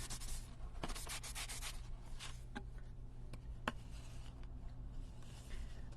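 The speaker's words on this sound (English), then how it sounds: "I'm just going to take my towel and rub it off a little bit" A towel rubs silver paint off a craft surface, giving a soft, continuous scrubbing hiss with a few light taps, quiet and close up.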